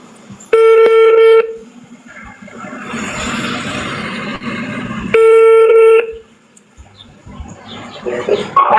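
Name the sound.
telephone ringing on outgoing call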